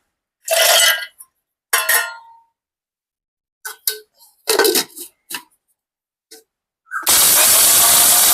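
Dry coconut pieces clink and clatter into a kitchen mixer grinder jar in scattered bursts. Then the motor starts, and a loud, continuous whirring grind runs to the end.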